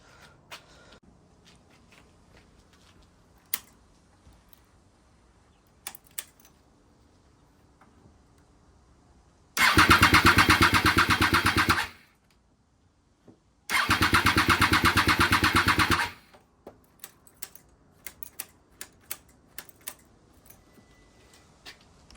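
A flooded 2008 Triumph Daytona 675 motorcycle engine cranks in two loud, steady bursts of a couple seconds each, separated by a pause, with faint clicks and quiet surroundings otherwise.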